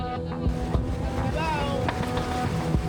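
A small passenger boat carrying around twenty people rocks on a rough sea, with steady rumbling engine and wind noise throughout. Muffled voices and knocks come through under the continuous drone.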